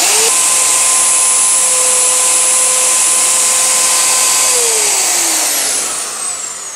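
A Parkside plunge router spins up and plunges into wood to its depth stop, a loud, steady high-pitched whine with whirring tones that shift downward near the end as the motor winds down.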